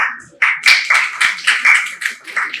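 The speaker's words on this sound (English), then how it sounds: "we all need to clap for him at least" A small audience at a stakeholders' meeting claps in sharp, loose bursts, a handful of nearby hands smacking in an uneven rhythm.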